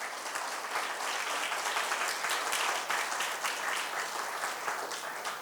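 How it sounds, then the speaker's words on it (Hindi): An audience at a religious Lent talk claps loudly and without a break, a dense and even wash of applause that lasts the whole time with no voices over it. "जोर से ताली बजाइए प्रभु को धन्यवाद देते हुए।"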